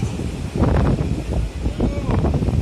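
Strong wind on Table Mountain buffets the microphone in rough, rumbling gusts that rise and fall, with a voice faintly mixed in beneath the roar.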